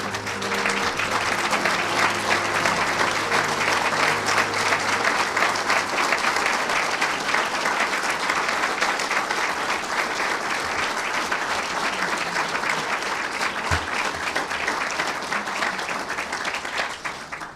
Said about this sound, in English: Round of applause for these veterans